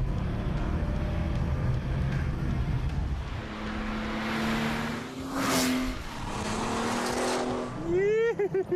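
A Porsche 911 Turbo pulls away hard under sustained engine roar, a rising revving tone climbing through the gears with a brief dip and tire noise, loud and close throughout.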